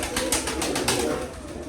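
Pigeons coo softly in a home loft on a rainy day, a few low, throaty calls rising and falling close by, with a gentle patter of rain in the background.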